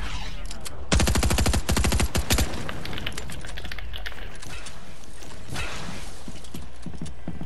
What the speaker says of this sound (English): He's shooting up. He's shooting up.